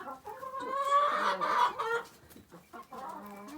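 Village chickens, a dual-purpose meat and egg breed, cluck and murmur close by in a busy, overlapping chorus, with a few louder squawks rising above the low chatter.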